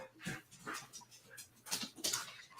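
A dog named Max whimpers at a closed door in soft, intermittent whines and yips, several short bursts near and fairly quiet.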